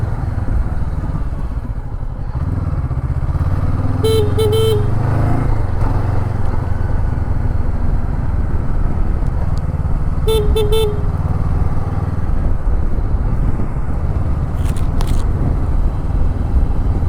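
Steady motorcycle engine and road noise on a ride through misty, foggy morning roads fills the scene while short horn toots sound twice, then a quicker honk near the end.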